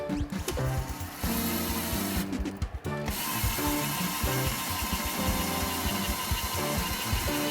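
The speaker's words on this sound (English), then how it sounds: "I got a drill here that will just quickly thread through." An electric drill drives screws into an engine air filter housing, a close, loud, whirring ratchet-like rattle that runs nearly continuously with one short pause, no talk.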